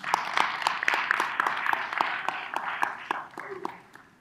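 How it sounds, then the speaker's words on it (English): Scattered, uneven clapping from a small audience at a Black History Knowledge Bowl quiz competition, distinct sharp claps at an irregular pace, with a voice heard underneath, tapering off toward the end. "Clap it up for yourselves."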